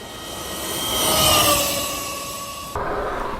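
A Sur Ron Ultra Bee electric dirt bike passes by with a rising, then fading whine that peaks mid-pass and drops off sharply near the end, with no voices.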